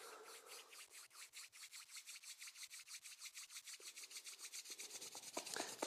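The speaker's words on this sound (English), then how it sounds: "Gently rub your hands." Hands rubbed together briskly, a soft close swishing friction repeated in a fast, even rhythm, building slightly louder toward the end with no talk.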